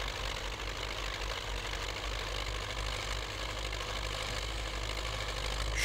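Engine of a Ford Bronco off-road vehicle in the game Spintires, a steady low idling rumble with a faint rapid knock that carries on evenly throughout, with no talking.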